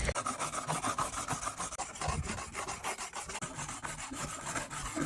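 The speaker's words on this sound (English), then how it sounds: "You're gonna be using this, the 180 grit diamond plate." A cleaver is sharpened on a 180 grit diamond plate, giving a steady, loud rasping scrape in rapid back-and-forth strokes that continues without pause, close up and alone.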